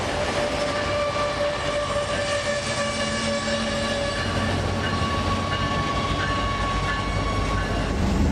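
A G1A train rumbles steadily along the tracks, a loud continuous rolling roar with sustained tonal whine and faint rhythmic rail clatter throughout, no voices.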